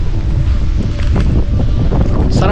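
Strong wind buffets the microphone on a Yamaha Nmax V2 scooter ride down the rocky Mabato snake road from People's Park in the Sky, Tagaytay, a steady loud roar with gusty bursts and a faint engine underneath.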